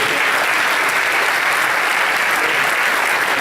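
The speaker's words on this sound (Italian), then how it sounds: "Un applauso a Paola." Theatre audience applauding for Paola at a pre-concert event of Il Volo del Jazz 2016, a dense, steady wash of clapping that stays loud and even throughout with no voices over it.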